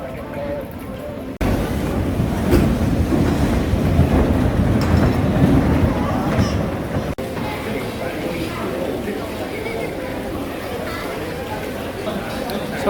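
Big Dipper roller coaster train at Pleasure Beach, a steady rumbling clatter of wheels on track running continuously and fairly loud, with people chattering throughout.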